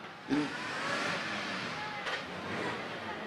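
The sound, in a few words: Packard classic car engine driving past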